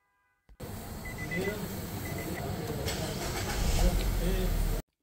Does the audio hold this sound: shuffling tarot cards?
no